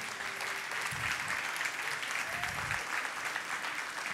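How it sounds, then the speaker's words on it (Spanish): A church congregation stands and applauds for Jesus during a Spanish-language sermon, producing a continuous, fairly faint wash of clapping with a low thump or two beneath it. "Dele un fuerte aplauso a Jesús."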